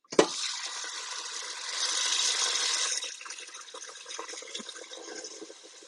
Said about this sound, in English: cover it all up to the top of the ingredients with water